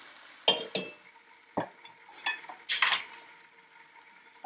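Cooked chicken karahi being moved from the pot into a bowl, with a handful of sharp metallic clinks and scrapes of a utensil against the pot, spaced irregularly and close by.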